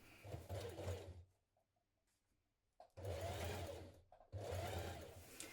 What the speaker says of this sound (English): I'm going to stitch around this curve and along